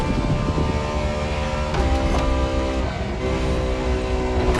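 Ferrari LaFerrari hybrid supercar driven in The Crew Motorfest racing game, a steady, loud engine drone with harmonic whine running throughout, a couple of brief gear-shift dips midway, no talk.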